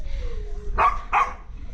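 Small dogs and puppies at a dog shelter in Huanchaco, Peru, give two sharp, close barks in quick succession, preceded by a faint whine.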